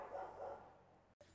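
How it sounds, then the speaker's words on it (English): A neighbor's dog barks a few times in quick succession at moderate distance, the yaps brief and muffled before a short silence. "That is the neighbor's dog."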